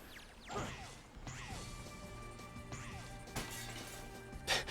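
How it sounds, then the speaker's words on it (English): Video game glass shatter from Sonic the Hedgehog (2006), a stock window-breaking effect with sharp crashes and whooshing impacts over a steady game hum, a few bursts spread across several seconds. "the stock window breaking sound"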